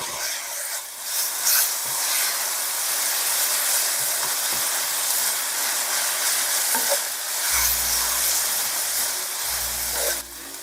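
Rice noodles stir-fried in a hot pan with yentafo sauce give a loud, constant sizzle and hiss, with the spatula scraping and knocking the metal now and then, plus low rumbling clatter near the end.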